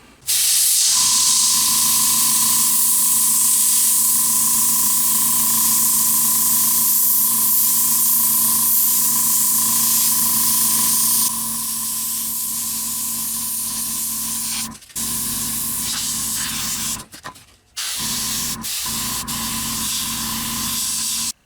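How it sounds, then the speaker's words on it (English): An airbrush sprays paint onto a custom diorama, giving a loud, steady close hiss with a faint tone that runs for several seconds, pauses briefly and resumes in short bursts, with no talk. "Maybe do some airbrushing."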